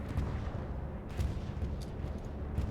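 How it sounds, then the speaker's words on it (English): Explosions from a bombing run in the WWII shooter Hell Let Loose, a dense, continuous low rumble of distant blasts and booms rolling together with a few sharper cracks. "Here comes the counter bombing run"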